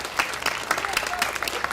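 Applause from an audience at a farm show after the first heat of a senior showmanship class, a steady patter of clapping with faint voices mixed in.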